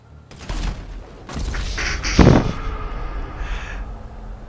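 Rapid gunfire aimed at water and oil tanks, a quick burst of sharp cracks and thumps with one heavy impact standing out, close and fairly loud.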